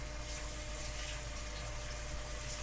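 Tap water runs steadily onto a block of butter in a kitchen, a faint continuous hiss and trickle with a low hum underneath, ending in a slightly louder splash.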